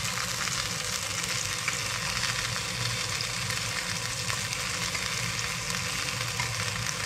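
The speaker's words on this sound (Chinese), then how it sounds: "把这旁边的皮煎酥哈，真的很好吃" Fish fillet skin pan-fries to a crisp in hot oil, a steady, dense sizzle with fine crackles holding evenly throughout, close and uninterrupted.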